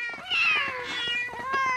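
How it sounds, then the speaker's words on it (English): A cartoon cat in Family Guy meows twice in quick succession, loud, close and clear, with no talking. "her cat Buttercup, who had a bunch of kittens"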